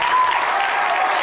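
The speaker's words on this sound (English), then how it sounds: "Give Tanner a big round of applause." Applause from a high school auditorium audience at a hypnosis show, a steady dense clapping wash that holds at an even level throughout.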